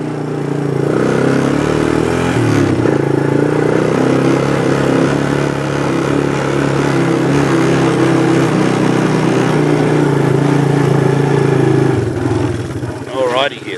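A vehicle engine runs steadily as it drives along a ranch track, a constant close rumble that holds for most of the stretch and then drops off near the end.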